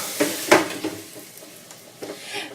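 Food sizzles softly in a frying pan during home cooking, with a few sharp clinks of dishes and utensils over the quiet hiss.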